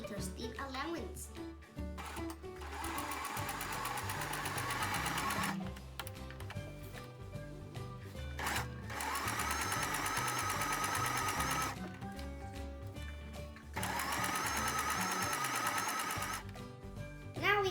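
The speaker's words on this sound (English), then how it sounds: "We are now going to start to sew with around 5mm stitch allowance." A sewing machine stitching fabric for a zippered pencil case with about a 5 mm seam allowance, running in steady rapid bursts of several seconds with brief stops, while a voice speaks over it.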